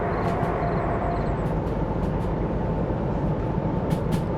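A Derail Valley locomotive pulling a short train gathers speed, its steady low rumble and rolling wheel noise filling the scene, with faint high clicks now and then over the continuous drone.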